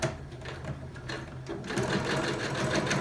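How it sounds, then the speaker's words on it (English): A sewing machine runs steadily, stitching a half-inch seam down the side and bottom of a pillowcase, with a continuous close, busy mechanical whir that quickens after a brief pause partway through. "So I'm going to sew all the way down the side and the bottom, 1/2 inch"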